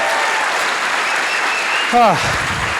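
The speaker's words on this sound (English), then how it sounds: "Give her a big round of applause," Audience applause at a startup pitch event at a Sydney festival, a continuous loud wash of clapping throughout, with a brief voice breaking through near the end.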